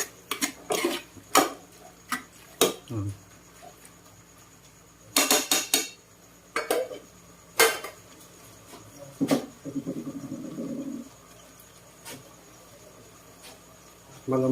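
Metal spoon clanking and scraping against a cooking pot while beef papaitan is stirred, a series of sharp irregular knocks with short pauses and a soft scraping stretch in between, close and fairly quiet.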